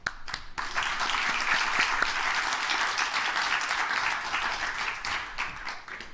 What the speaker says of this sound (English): Please give it up for Yeshua.